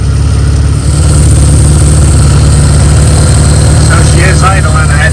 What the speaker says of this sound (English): So she is idling. I had to turn up the idle a bit, but it seems to still run